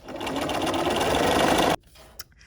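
Sewing machine fitted with a topstitch needle stitching fabric for a dog leash, a close steady rapid hum for nearly two seconds that stops abruptly, followed by a small click.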